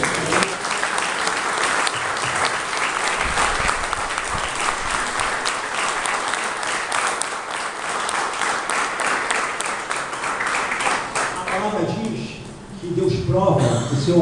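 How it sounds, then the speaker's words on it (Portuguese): A church audience applauds for Jesus, many hands clapping in a steady, sustained wash for over ten seconds before it thins out and a voice begins to speak over the last moments. "Podemos dar uma salva de palmas ao Senhor Jesus?"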